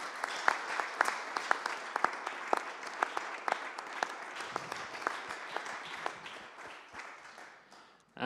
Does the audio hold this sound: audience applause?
yes